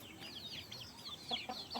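Broiler chickens cluck and chirp in a short run of soft, repeated calls, fairly close but quiet against a low background.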